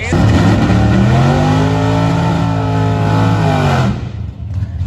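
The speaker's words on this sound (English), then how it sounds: "Tim Irwin's driving the 63 model Chevy Nova known as Half-Baked" A 1963 Chevy Nova hot rod on a racetrack, its engine loud and close with a rising, revving drone that holds for several seconds before fading away.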